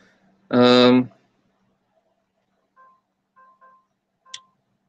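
An old mobile phone's keypad gives a few short, faint beeps while a message is typed, after a brief burst of a voice.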